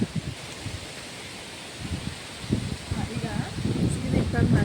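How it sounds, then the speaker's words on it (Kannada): Strong wind with rain buffets the microphone in a steady roar with rumbling gusts that grow louder toward the end, leaves rustling underneath. "ಗಾಳಿ ತುಂಬಾ ಬರ್ತಾ ಇದೆ ತುಂಬ ಅಂದರೆ ತುಂಬ ಗಾಳಿ ಇದೆ"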